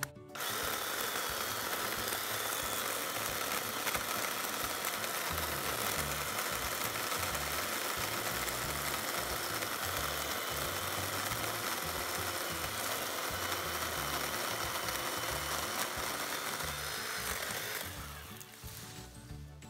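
A Craftsman lithium-ion battery chainsaw cuts through a small tree with a loud, steady whirring drone that runs nearly unbroken for about eighteen seconds before winding down, and no one speaks.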